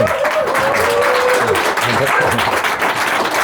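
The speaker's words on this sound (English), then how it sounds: "With a strong applause for Alvin." A conference audience at Davos applauds to welcome a speaker onto the stage, a broad wash of clapping that holds steady for a few seconds, loud and close, with some voices mixed in.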